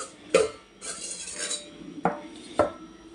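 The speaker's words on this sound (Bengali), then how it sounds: "এখন এটা কড়াইয়ে ঢাকনাটা দিয়ে দিলাম" A metal lid is set on a wok in a home kitchen, with three or four sharp clanks spaced apart and some scraping and rattling in between, close by and with no talking.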